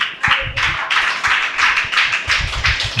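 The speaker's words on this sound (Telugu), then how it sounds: "చప్పట్లు కొట్టండి గట్టిగా" A church congregation claps loudly in unison at a Telugu sermon, a steady rhythmic series of sharp, bright claps repeating about every half second, close and energetic with no talking over it.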